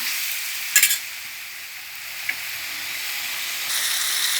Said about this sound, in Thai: ผัดให้หอมก่อนนะคะ